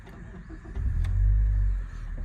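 A 2008 Mazda 5 Sport 2.0 engine cranks and catches, a low rumble swelling for about a second before settling into a quieter idle.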